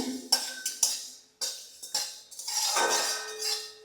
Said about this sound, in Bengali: আর দেবো আমি মৌরিটা একটু নেড়ে নেব